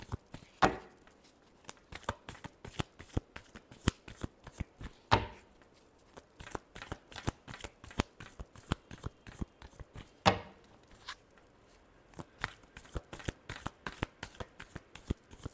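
Tarot cards shuffled by hand during a Scorpio love reading, a long run of quick, crisp riffling slaps at a steady brisk rhythm, close and clear, with a few heavier taps, and no talking.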